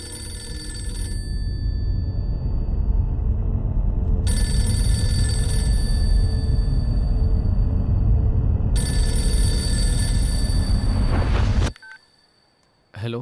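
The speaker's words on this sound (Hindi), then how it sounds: "फोन क्यों नहीं उठाता?" Telephone ringing in a Hindi-dubbed action film, a loud electronic ring repeating in long bursts over a low music bed, then cutting off abruptly into near silence.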